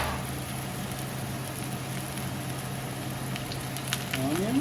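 Two onions frying in a pan, a steady close crackling sizzle running evenly throughout, with a low constant hum underneath and a few brighter clicks near the end.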